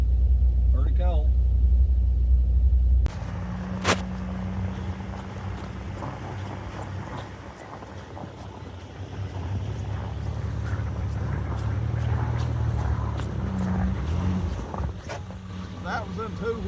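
A vehicle on Nitto Terra Grappler G3 tyres rolls through about eight inches of snow in two-wheel drive, its low engine and tyre rumble steady under wind noise.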